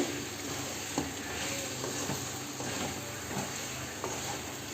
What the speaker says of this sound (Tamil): ஆட் பண்ணி நல்லா கிளறி விட்டுக்குவோம்.